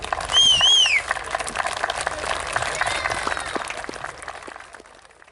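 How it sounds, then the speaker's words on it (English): Outdoor crowd at a model air show applauds after a model fighter jet lands, a moderate patter of clapping that slowly fades, with a brief whistle-like tone near the start. "we expect more than a ripple of applause"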